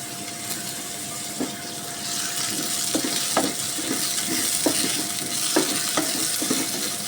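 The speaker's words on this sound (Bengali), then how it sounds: "চিংড়ি মাছগুলো একটু ফ্রাই করে নেব" Shrimp frying in a pan with onions, a steady close sizzle with occasional sharp pops and crackles of spitting oil, no voices over it.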